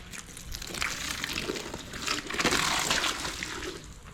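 Gutter water rushes and gurgles steadily into a channel drain, a soft hissing flow that swells midway and continues without any talking.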